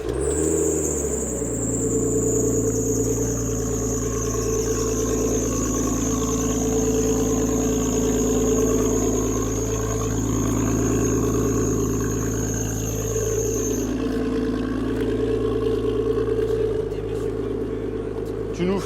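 A car engine catches and settles into a steady, even idle, a low continuous hum with a faint high whine, while people talk nearby.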